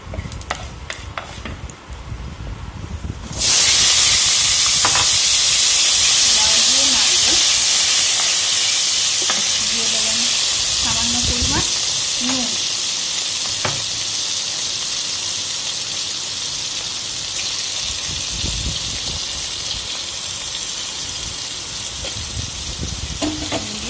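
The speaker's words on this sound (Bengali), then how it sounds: "কালো জিরে দেওয়ার পরে নাড়াচাড়া করে এবার দিয়ে দেবেন লাউ" Bottle gourd pieces hit hot oil already crackling with nigella seeds and start frying loudly, a bright steady sizzle that jumps up after a few seconds and holds, with faint stirring clatter underneath.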